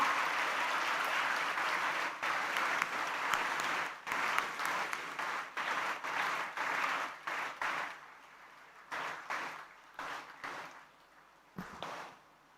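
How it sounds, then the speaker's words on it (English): An audience at a first-year engineering college inauguration breaks into sustained applause, a dense roar of many clapping hands that gradually thins into scattered, separate claps toward the end. "give a big round of applause, guys"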